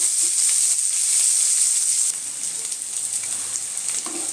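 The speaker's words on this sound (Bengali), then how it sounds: "পেঁয়াজটা একটু হালকা লাল করে ফ্রাই করব।" Chopped onion frying in oil for Katla fish cooked with coconut milk, a soft steady sizzle and hiss from the pan, fairly close, with no talk.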